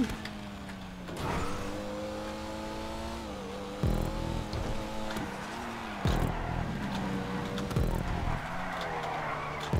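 Rally car in GTA 5 Online drifting, its engine droning and revving in shifting pitch with sudden bursts of tire skid and impact noise, moderately loud and continuous throughout.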